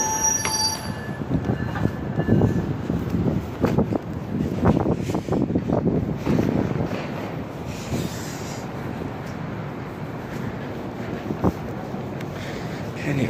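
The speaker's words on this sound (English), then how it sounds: "Didn't even notice that there was even a Metra here." A Metra commuter train rolls past on the rails, with a steady rumble of wheels, clanking railcars and brief squeals, close and loud throughout, with some wind buffeting the microphone.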